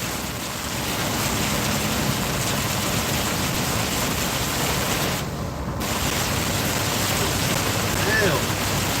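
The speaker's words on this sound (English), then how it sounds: "You guys see the rain?" Steady rain falls and patters on surfaces throughout, a dense continuous wash with a low rumble beneath, recorded while out making deliveries.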